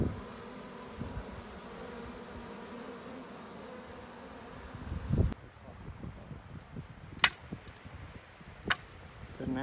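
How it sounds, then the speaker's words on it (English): Honeybees buzz around a box during a desert hive removal, a dense steady hum at first that thins to a quieter drone with a few sharp knocks and clicks. "Got all these bees still in the box, not really marching into the queen yet."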